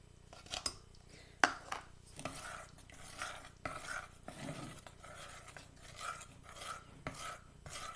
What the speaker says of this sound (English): So now the chocolate chips are all melty, and they just stir right into the cream.